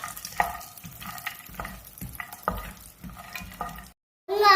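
Almonds and cashews roasting in a dry pan, stirred with a spoon in repeated light scraping strokes, close and moderately loud, with a faint sizzle underneath.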